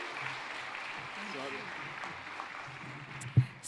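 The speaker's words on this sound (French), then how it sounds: "je veux vous demander d'applaudir de nouveau pour tout ce panel" An audience applauds a panel at a community gathering, a steady wash of clapping that runs the whole time with a voice speaking over it.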